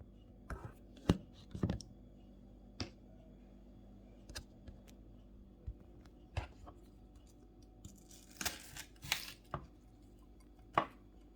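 Knife chopping onions while preparing a Tunisian sauce, with irregular sharp taps on a cutting board, some in quick bursts and others spaced apart, fairly close and quiet, with faint kitchen clatter in between.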